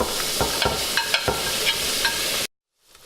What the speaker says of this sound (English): this pan is really hot, and we're not going to use all this butter. We're going to cover the bottom, and I'm going to put this fish right in here.